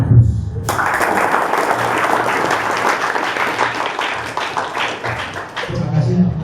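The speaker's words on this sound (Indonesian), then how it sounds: "Berikan aplaus" Audience applause at a university thesis defense, sustained steady clapping from a crowd lasting several seconds, fairly loud and dense, with a brief hush before it starts.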